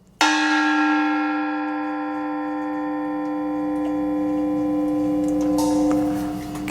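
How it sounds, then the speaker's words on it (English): A 12-inch Chinese-style tiger gong struck once, a sharp attack blooming into a long, steady shimmering ring that sustains for several seconds with faint wobble as it decays. "this particular one, this is a 12-inch tiger gong, which is a Chinese style gong. And it sounds like this"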